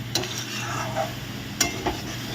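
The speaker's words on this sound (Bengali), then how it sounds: "আমি এই মাংস দিয়ে সয়াবিন দিয়ে ভালো করে কষে নিয়ে" Meat and soybean chunks stir-fried in a pan: a soft continuous sizzle with a few sharp scrapes and clinks of a spatula against the pan.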